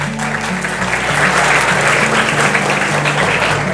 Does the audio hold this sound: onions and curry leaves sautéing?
no